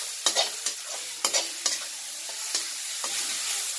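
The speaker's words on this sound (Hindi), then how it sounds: "अब इसमें जो कद्दूकस किए थे बंद गोभी को वो डाल देना है और इसको 2 से 4 मिनट तक इसी तरह पकाना है।" Grated cabbage stir-frying with onions and green chillies in a pan: soft sizzling under a string of sharp spatula taps and scrapes at an irregular pace, close by and with no speech.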